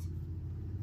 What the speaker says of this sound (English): Sorry for the road noise if you're hearing it.